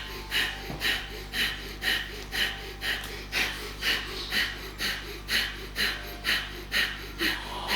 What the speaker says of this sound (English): You're working briskly, breathing in and out briskly towards your tummy muscles.